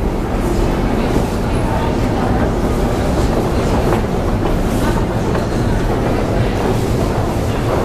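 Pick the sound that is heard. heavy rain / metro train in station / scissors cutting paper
metro train in station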